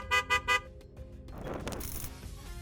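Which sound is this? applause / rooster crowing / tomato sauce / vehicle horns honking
vehicle horns honking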